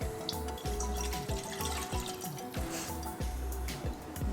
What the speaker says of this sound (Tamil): 3/4 கப் தண்ணி ஊற்றாச்சு.